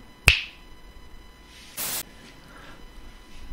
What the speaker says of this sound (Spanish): ¿Habéis visto qué fácil ha parecido con el chasquido de dedos?